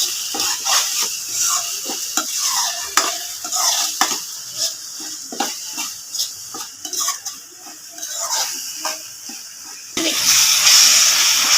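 A spoon scrapes and stirs around a pan as cumin and coriander powder are mixed into an egg curry, with irregular clinks and scraping over a soft frying sizzle that grows louder near the end.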